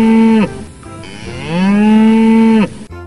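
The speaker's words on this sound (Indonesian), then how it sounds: "ini ada kerbau hitam teman-teman" A toy water buffalo gives two loud, drawn-out electronic moos, the first short and the second longer, each ending with a falling pitch.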